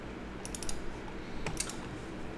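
Quick bursts of keystrokes on a computer keyboard, two short clusters of clicks about a second apart over a steady low hum, fairly close and moderately quiet, with no talking.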